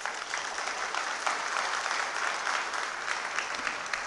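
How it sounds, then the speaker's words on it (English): Steady audience applause fills a convention hall, dense and even clapping from a large crowd that holds at a constant level throughout with no voices standing out. "I request everyone to please give a big round of applause."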